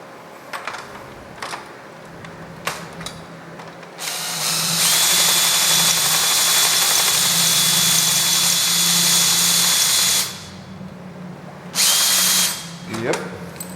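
A power drill bores out a rivet while a screwdriver holds it in place, the motor whining loud and close in a long steady burst, then stopping and starting again briefly, with quieter handling and low talk around it.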